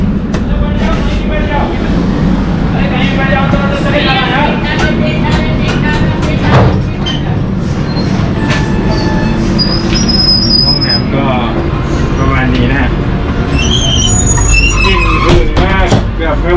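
An Indian passenger train rolls loudly and continuously, its wheels letting out shrill, wavering squeals and metallic screeches over a deep rumble, with voices faintly in the mix.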